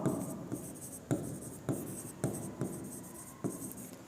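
Pen or marker writing a chemistry definition on a board: a series of short scratchy strokes with sharp taps every half second or so, close and fairly quiet, with no talking.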